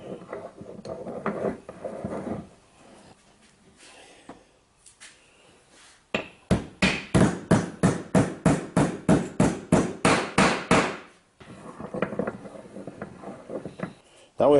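A penny washer clamped in a bench vise is bent to a 90-degree angle for a rabbit snare, heard as a burst of about a dozen sharp, evenly spaced metallic strikes, close and loud, with quieter shop handling noises before and after.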